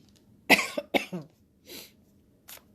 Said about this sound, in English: excuse me for the coughing there.